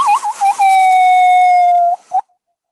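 A person imitating a Canadian loon's call with their voice: a loud, close, wavering whistle-like wail that breaks into a long sustained tremulous note, then a short final rising cry, followed by silence.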